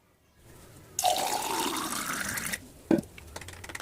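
Chilled water splashes into a glass of mango aam panna concentrate in one steady pour lasting about a second and a half, followed by a brief clink.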